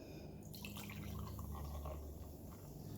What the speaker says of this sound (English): I'm going to pour each of the sodas into a clear glass.